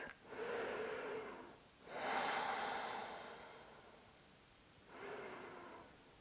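Slow deep breaths during seated chair yoga in a Kundalini session: three long, soft airy inhales and exhales separated by quiet pauses, close and alone with no talking.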